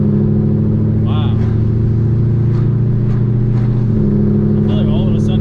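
Deep, steady exhaust drone of a 2018 Camaro ZL1 with Kooks long tube headers and no mufflers, loud and close while cruising, with a brief shift in pitch near the end and people talking over it.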